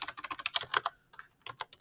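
Rapid typing on a computer keyboard while entering a budget in Google Sheets: quick, crisp key clicks in an uneven run, a short pause, then a few more strokes, close and quiet.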